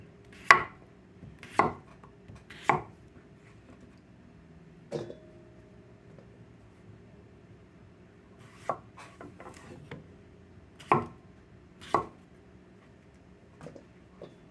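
A knife cuts through raw potatoes on a cutting board, about eight separate sharp thunks spaced irregularly over a quiet background.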